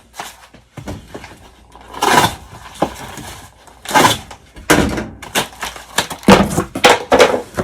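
Cardboard shipping box being cut in half in a garage, with loud ripping and crunching bursts in bumpy, uneven strokes, close by and with no talking.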